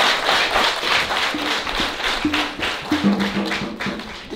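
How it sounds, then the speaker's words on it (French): An audience claps for a priest during a French-language gathering, a sparse, uneven patter of hands over a low hum and intermittent tones in the background. "Nous l'applaudissons comme les amis."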